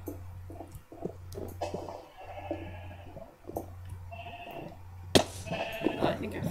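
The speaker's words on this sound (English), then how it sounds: "I found another floating sheep that really freaked me out." Video game sheep bleat several times in short wavering cries over a steady low hum, with other game effects scattered in between.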